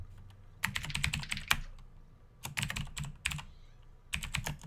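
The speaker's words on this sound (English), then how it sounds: "I'm typing in 2017 to see if we get like some fucking." Bursts of rapid keystrokes on a computer keyboard come in several short runs separated by brief pauses, close and crisp with no talk.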